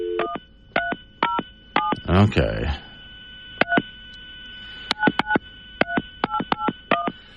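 Telephone dialing tones beep in short evenly spaced bursts, a burst of noise interrupting midway, then another quick run of beeps; a brief word is spoken.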